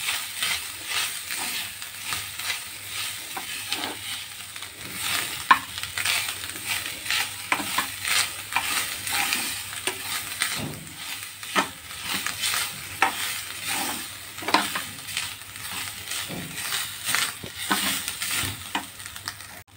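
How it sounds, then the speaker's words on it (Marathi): Grated coconut roasts with fried onion in a pan, giving a soft continuous sizzle broken up by repeated scraping and stirring strokes of a spoon against the pan, close and steady. "त्यामध्ये आता आपण हे खोबरं टाकूया आणि ते चांगलं भाजून घेऊया।"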